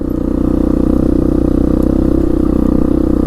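A 1998 Yamaha Big Bear 350 4x4 ATV riding along a trail, its single engine a steady, close, chugging drone with a faint clatter running throughout.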